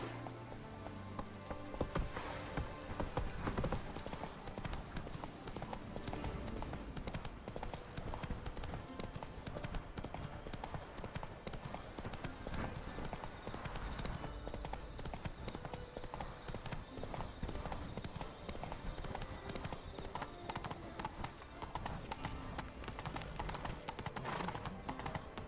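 Roach the horse gallops in The Witcher 3, a steady, loud clip-clop of hooves running through the whole stretch over game music and ambience, with a rain-like patter and brief bursts of voice.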